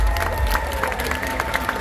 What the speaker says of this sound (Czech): Přátelé, velký potlesk pro naše dresy ještě jednou!